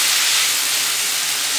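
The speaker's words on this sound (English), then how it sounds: "All you need to do is just fry the veg" Vegetables frying in a frying pan over a medium flame give a loud, steady sizzling hiss that stays dense and even from start to finish, with no voices over it.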